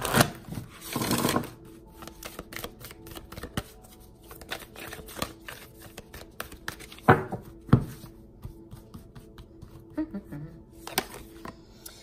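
Work Your Light oracle cards are shuffled in quick riffles and soft flicks, with scattered taps and card slaps near the microphone, and someone talks at moments.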